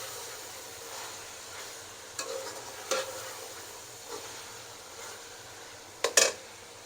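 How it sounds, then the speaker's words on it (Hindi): Beef keema being fried and stirred in a pot, a quiet steady sizzle with occasional soft scrapes of the spoon and one louder clatter near the end. "अब इसकी भुनाई करेंगे।"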